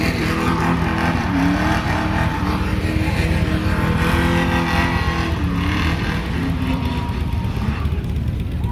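A car revving hard and spinning its tires at a summer sunset car show, a loud continuous engine roar with tire noise that holds steady throughout, close by and dominating.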